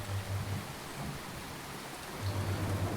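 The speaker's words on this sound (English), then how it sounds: "I wanted to have a cloud right here, like a rainy cloud, really heavy storm, and I had these lightning effects." Steady rain effect in Unreal Engine 4, a dense even hiss of a heavy storm with low rumbling thunder swells near the start and end, no voices.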